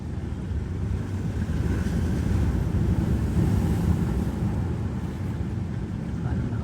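Strong ocean waves surge around a small fishing boat at sea, a loud, constant rushing wash mixed with heavy wind buffeting the microphone.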